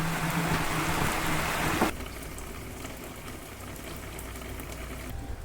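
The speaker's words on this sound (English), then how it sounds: "Some rain just came in. Got a nice squall here." A rain squall on a remote Newfoundland island, steady loud hiss of rain beating down close by for about two seconds, then dropping to a lighter, quieter patter of drops.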